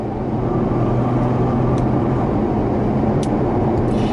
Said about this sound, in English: you have the glorious V12 engine under the front